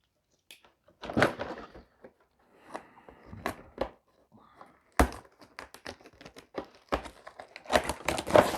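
Hobby knife cutting open a Blood Bowl miniatures box, with sharp scraping slices, cardboard cracks and crinkling in scattered close bursts and short pauses between.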